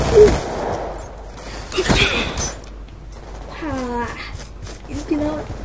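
Gunfire in Call of Duty: a loud burst of shots right at the start and another cluster near the two-second mark, with voices talking through the gameplay.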